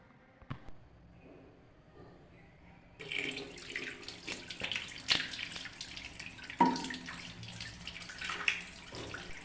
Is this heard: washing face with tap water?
yes